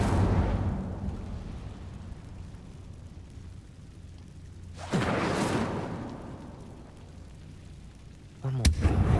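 Fire spells cast in Hogwarts Legacy give a rumbling whoosh midway that swells and fades, followed near the end by a sharp burst over a steady roaring game background.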